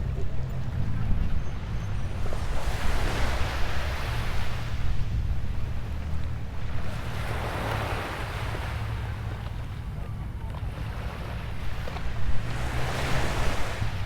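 Surf rolls onto Patong beach in slow, broad washes that swell and recede every few seconds, with steady wind noise throughout and no talking.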